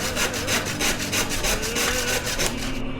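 A hand saw cuts through a wooden plank with quick, rhythmic back-and-forth strokes, about ten rasping passes in three seconds, close and loud with no talking.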